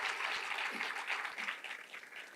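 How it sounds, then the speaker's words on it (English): The audience at a law college valedictory ceremony gives a sustained round of applause for the organizing team, dense steady clapping throughout at moderate loudness with no talk over it. "I would like everybody to clap loudly for all the organizing team"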